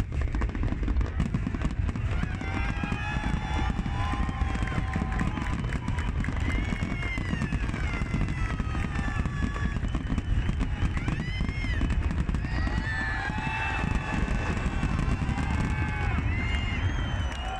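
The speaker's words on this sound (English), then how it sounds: "being the largest offshore fireworks show in the world" Largest offshore fireworks display, staged by South Africa over the water, heard as a continuous dense crackle and rumble of bursts with crowd noise, whistles and voices throughout, steady and loud for the whole stretch.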